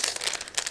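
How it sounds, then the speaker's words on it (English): A plastic bag holding a clear plastic model kit sprue is torn open, with short bursts of bright crinkling and rustling, close and fairly loud. "it comes in the separate plastic bag as usual, so just give me a second to open it"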